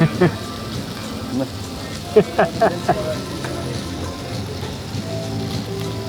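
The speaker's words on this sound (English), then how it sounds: "Okay, that's a sizzler, right?" A sizzler dish on a hot plate hisses steadily in a restaurant bar, a continuous crackling fry running under conversation with a few sharper pops and clinks.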